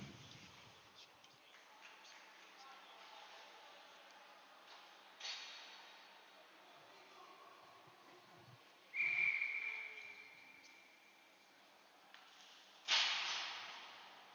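A referee's whistle in an 18U ice hockey game, blown to call offsides, with a few sharp high blasts rising over a steady rink crowd hum and faint commentary in the background.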